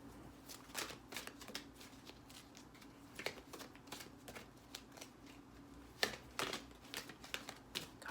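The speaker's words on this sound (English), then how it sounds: "having these big cards, I mean, they're beautiful, but they are hard to shuffle" Large tarot cards are shuffled by hand, giving close, soft papery riffles and slaps in irregular bursts with pauses between, and nobody speaks.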